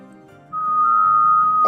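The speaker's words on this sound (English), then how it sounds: "fill your lungs of air while you whistle" A steady, sustained whistle on one high pitch, made while breathing in, held close and clear for over a second.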